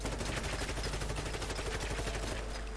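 A Heckler and Koch G36 rifle fires in a Fallout 4 weapon mod: rapid automatic bursts of shots crackle in a fast, even rhythm, fairly loud and continuous, with no talking.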